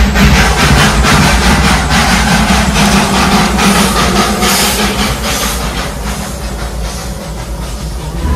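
A train at Darjeeling railway station rumbles loudly nearby with a steady hiss and rhythmic clattering, easing slightly toward the end; no one speaks.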